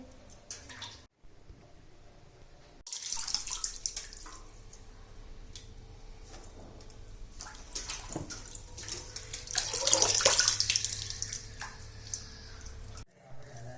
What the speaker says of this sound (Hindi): तो मैंने इन सारी सब्जियों को अच्छे से धो लिया है 4-5 पानी में।